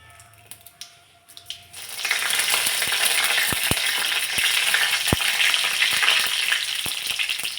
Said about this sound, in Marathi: तेल तापलं की त्यामध्ये लसूण न घालता मी जिरे घातलेत